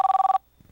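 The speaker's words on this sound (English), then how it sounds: "is that your phone ringing?" A telephone bell rings in a rapid pulsing trill for a fraction of a second, loud and close, then cuts off into near silence with faint low rustling.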